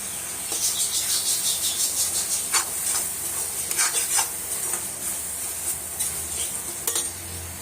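Prawns coated in turmeric and chili powder fry in a masala, giving a steady close sizzle mixed with scraping stirs and a few sharp utensil clicks, with no voices.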